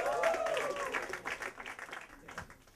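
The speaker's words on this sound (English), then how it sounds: "Can start the applause." Audience applause at a live stand-up comedy show, a steady wash of clapping from a crowd that stays fairly loud throughout, then eases slightly toward the end, with faint voices mixed in.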